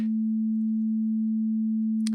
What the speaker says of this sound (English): Okay, so I'm going to trigger a sine wave.